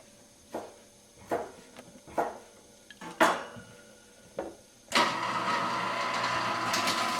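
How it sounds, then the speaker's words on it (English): A Handycam camcorder mechanism makes a series of sharp clicks and clunks. A steady, hissy motor whir follows and carries on to the end. "You can hear the motor. You can hear it whirring."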